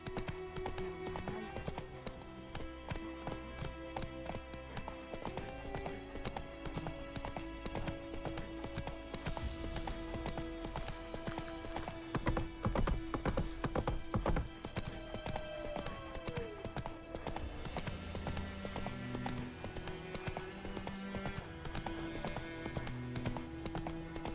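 Steady rhythmic hoofbeats of a horse galloping in The Witcher 3 video game, clip-clop continuing throughout under game music, with a brief whinny and occasional ambient game sounds.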